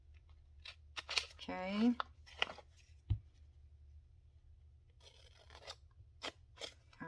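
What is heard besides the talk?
scissors cutting paper along fold line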